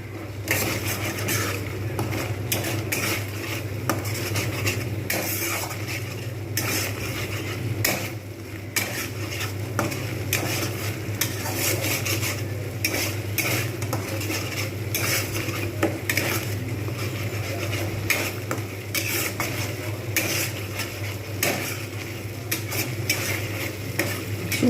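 Egg korma masala with curd stirred and sautéed in a pan, with a steady low sizzle and a spatula scraping and clinking against the pan continuously throughout, close and fairly loud, no voices.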